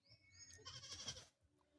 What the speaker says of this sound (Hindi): हमारा घर का बकरी है यार ये